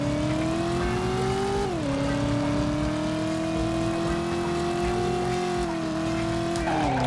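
A 1970s car in the PlayStation game Driver sounds its loud, continuous engine drone, holding a steady pitch that dips briefly as it shifts and then climbs again, with no talk over it.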